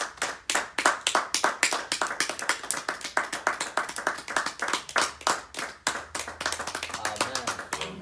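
A church congregation claps to acclaim the Lord, a dense run of sharp, fairly rapid handclaps that continues throughout, with a voice speaking faintly underneath toward the end.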